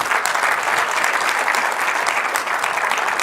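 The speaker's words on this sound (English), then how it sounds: "Give them another round of applause" Close, full audience applause at a cancer genomics forum, an even unbroken wash of clapping from many hands that holds steady for a few seconds, with no voice over it.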